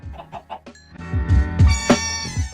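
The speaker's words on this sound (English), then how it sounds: "I brought back the chicken and then bred as many chickens as I could." Several short Minecraft chicken clucks in quick succession, followed by a louder burst of squawking and clucking, with a bright electronic tone in the background.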